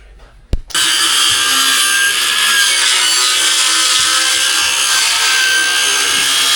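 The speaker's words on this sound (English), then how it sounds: "Circular saw." A circular saw cuts plywood floor board for a campervan: a sharp click, then the blade spins up into a loud, sustained, close-up cutting whine that continues to the end.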